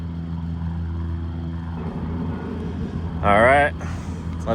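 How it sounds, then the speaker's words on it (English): An airplane passing overhead outdoors, heard as a steady low engine drone with a louder whine swelling briefly near the end, under a person talking nearby. "let's pause the plane going by for a sec"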